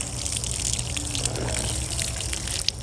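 Water pours steadily onto compost spread over a garden bed in a kiddie pool, a continuous close gushing splash with no voices.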